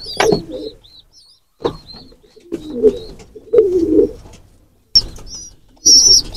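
Pigeons and pigeon chicks coo in low, throaty phrases, broken by quiet gaps, with a few high chirps and brief wing flutters nearby.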